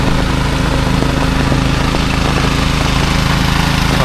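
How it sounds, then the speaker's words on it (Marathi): A machine churning mud in a rain-flooded village field runs as a loud, steady engine drone with a constant mechanical rattle, unbroken throughout and with no voices. "इकडे पण मशीनने ते करतो आहे चिखल करतो आहे"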